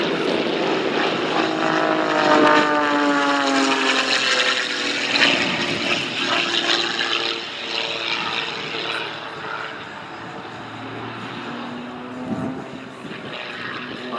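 Pitts Special biplane at an air display at Weston Park, its propeller engine droning overhead in a loud sustained pass that slowly shifts in pitch and fades slightly.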